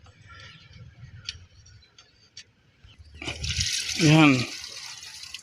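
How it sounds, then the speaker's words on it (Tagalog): A car radiator is flushed with coolant and Coca-Cola. Faint ticks and drips give way midway to a louder gushing pour as the liquid drains out, and someone speaks briefly. "Bumulusok na ang tubig."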